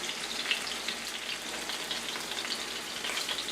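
Pork chops browning in a pan over medium-high heat for a German pork and sauerkraut casserole, a soft continuous crackling sizzle, fairly quiet and even, with no talking.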